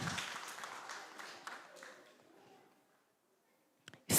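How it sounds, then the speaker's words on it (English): Audience applause for a young primary school pupil at a national reading competition awards ceremony, a spread of clapping loudest at the start and thinning over a few seconds before a brief sharp sound at the end. "Give her a round of applause."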